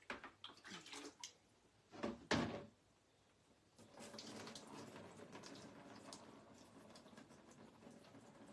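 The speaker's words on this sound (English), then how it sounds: "All right, let me get it rinsed." Tap water runs while marbled glass is rinsed, a soft splashing hiss in short bursts with a brief clunk, then a longer, faint steady stream.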